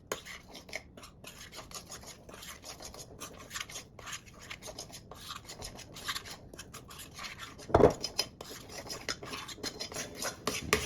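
Keto brownie batter scraped and stirred in a bowl with the last of the dry mix, a steady close rasping and rubbing of the utensil against the bowl that holds a few seconds and then gives one louder knock near the end.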